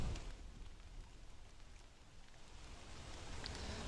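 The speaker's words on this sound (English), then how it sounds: "Yeah, it's stupid rain." Steady, even rain falls in the video game Don't Starve, a soft continuous patter that holds throughout with no voices over it.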